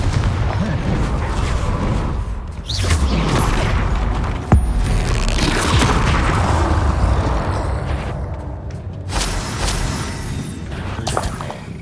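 Fiery spell blasts and booms from the Hogwarts Legacy video game, a dense, loud stream of explosive bursts with one sharp crack midway and continuous rumbling effects throughout, with some voice audible in the mix.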